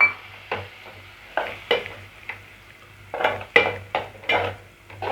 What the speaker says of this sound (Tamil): இப்போ நம்ம அரைச்சி வச்ச பேஸ்ட்டை சேர்த்துப்போம் கிளறி விட்டுப்போம்